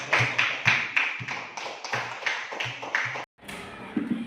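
Children in an elementary school classroom give a round of applause, a steady run of quick hand claps with a brief pause near the end before the clapping picks up again.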